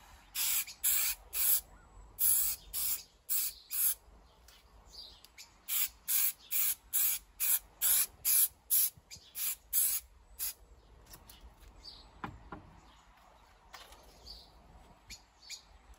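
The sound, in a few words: spray adhesive spraying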